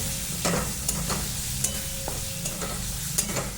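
Spoon stirring homemade masala with red chili powder and turmeric in a frying pan, a steady sizzle with intermittent scraping clinks of the utensil against the pan, close and fairly loud.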